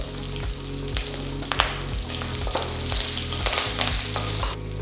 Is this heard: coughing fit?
no